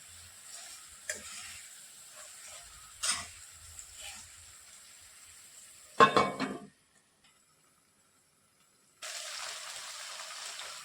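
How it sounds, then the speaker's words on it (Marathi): Stuffed capsicum (bell peppers) frying in a pan give off a steady, low sizzle, broken by a sharp clatter partway through. A brief quiet follows, then the sizzle returns, louder and more even. No voices are heard. "पाच ते सात मिनिटानंतर आपली ढोबळी बऱ्यापैकी शिजत आली आहे"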